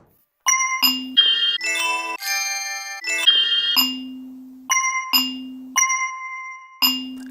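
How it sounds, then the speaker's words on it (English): A bell sample from a Faded Reels percussion kit is triggered on a Maschine drum machine, ringing out in a series of bright, clean chimes with short gaps, a few overlapping into fuller ringing clusters. "a bell can go far"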